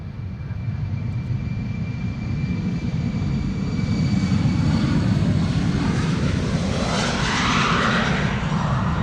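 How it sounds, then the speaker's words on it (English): Embraer 190 airliner departing Amsterdam Schiphol Airport, a loud continuous jet engine roar with broad rushing noise that swells and shifts in pitch as it passes, with no voices. "Embraer 190"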